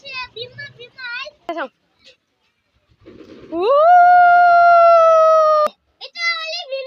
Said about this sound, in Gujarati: આપણે ભાગ લે કુતરાનો અવાજ છે